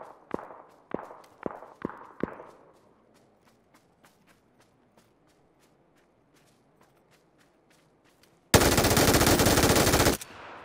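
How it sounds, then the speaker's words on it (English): Gunfire from a hand-cannon weapon in PUBG: four sharp, loud shots a half-second apart, then faint ticking footsteps, and finally a dense two-second burst of rapid automatic fire. "Okay, this gun is insanely hard to control, man."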